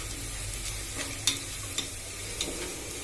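Sliced onions fry in oil until browned, giving a steady crackling sizzle close by with a few brief sharp pops and stirring scrapes, with no talking.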